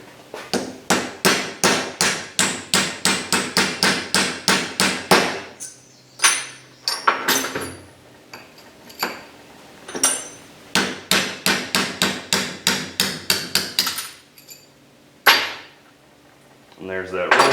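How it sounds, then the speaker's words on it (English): Rapid, loud metallic hammer strikes driving a roll pin out of a differential carrier during a locker install, coming in fast rhythmic bursts with short pauses between runs. "We're going to drive the pin from this side."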